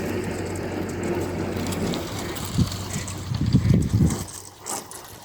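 A narrowboat pushes through ice on a canal, giving a continuous crunching, grinding scrape with a low engine hum beneath and several louder cracking bursts toward the end, close and fairly loud.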